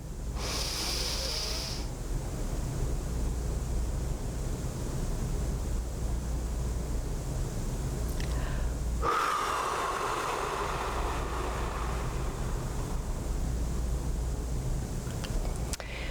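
A close, loud breath is drawn in during a 4-7-8 breathing exercise, followed by a long quiet hold and then a slow, airy exhale.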